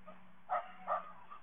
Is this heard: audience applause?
no